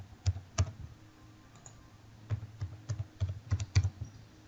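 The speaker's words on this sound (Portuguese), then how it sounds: "eu vou digitar a senha aqui" Keys are tapped on a computer keyboard to enter a password, a sparse run of about a dozen crisp clicks in two bursts with a short pause between, close and fairly quiet with no talking.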